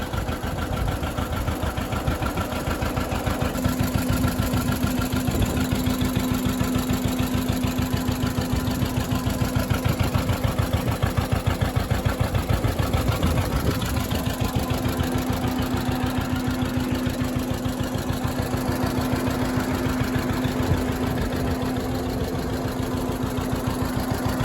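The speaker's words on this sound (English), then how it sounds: "that's this tractor. I can fire it up for you guys," A John Deere 50 tractor engine runs at a steady idle, close and loud, with a rapid even beat and a constant hum throughout, no talking over it.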